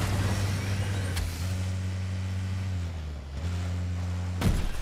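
Audi Quattro engine in a video game, a steady low drone that shifts pitch between gears, dipping and rising a few times, ending in a brief burst of noise.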